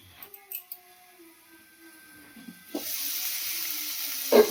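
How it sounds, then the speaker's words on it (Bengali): Capsicum frying under a lid in a covered pan, a steady hiss of sizzling steam that swells louder partway through, following a few quiet clinks and taps. "ঢেকে রাখলে ঝপঝপ করে ভাজাটা হয়ে যাবে"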